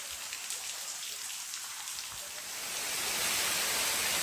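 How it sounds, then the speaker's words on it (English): Heavy rain pours steadily onto the Au Sable River in Michigan, a dense, even hiss of drops on water that swells louder toward the end. "look how hard it's pouring"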